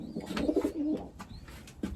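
A young racing pigeon coos softly and close, a low throaty burble lasting under a second, followed by faint rustles and small handling noises.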